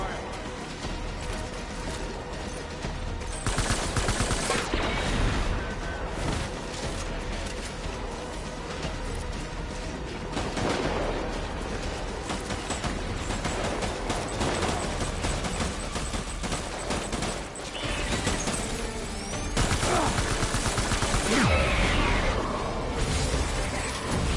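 Sustained gunfire in the Death Stranding game, dense bursts of shots and clattering impacts running continuously, rising into louder volleys at intervals, with a voice speaking over the fight.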